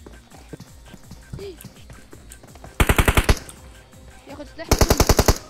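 Two short bursts of rapid machine gun fire in PUBG Mobile's Christmas mode, loud and crisp, with people talking and game sounds in between.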